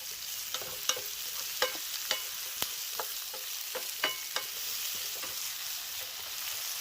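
Food browns in olive oil in a pan, a faint, steady crackle with scattered sharp little pops and spits spread irregularly throughout.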